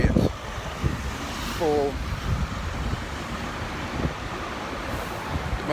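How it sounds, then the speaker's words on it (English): Steady roar of passing road traffic on a windy street, a constant rumbling wash with occasional louder swells from vehicles, running under someone talking close to the microphone. "Excuse tons of traffic noise happening here behind me."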